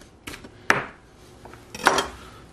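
Knife slicing a chowder ingredient into half-inch slices on a cutting board, a few sharp chopping knocks spaced about a second apart with light scraping in between, close up.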